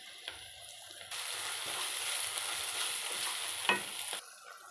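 Prawns with curry leaves, ginger-garlic paste, turmeric, chili powder, garam masala and salt fry in a pan. A steady, close hiss of frying carries a few scrapes, and no one speaks.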